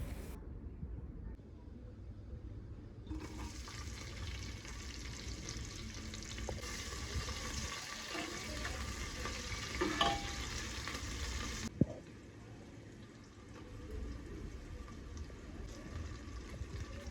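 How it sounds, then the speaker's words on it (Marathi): Onion, green chili and tomato frying and being stirred in oil in a pressure cooker, a steady close sizzle with scraping stirs and a brief clank near the end; no speech. "कांदा छान परतून झाला की त्याच्यामध्ये हिरवी मिरची आणि टोमॅटो घालून सगळं छान परतून घ्यायचं आहे."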